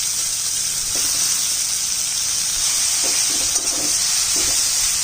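Boiled banana flower (mocha) frying in a pan with black cumin seeds until browned. A bright, even sizzle holds close and steady throughout, with a few soft scraping knocks from stirring and no talking.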